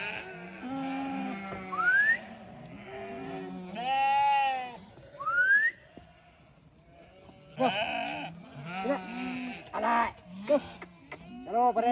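Sheep in a large flock of about 400 head, herded in a forest area, bleat repeatedly and loudly at close range as they are called in, with several overlapping wavering cries and brief human voices between them.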